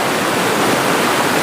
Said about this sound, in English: River is so beautiful. Water comes from all side out of hills